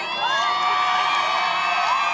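A crowd cheers and whoops at a Friday night high school football game, with Bradford cheerleaders performing; the cheering is loud, continuous and dense, and high shouts rise above the roar.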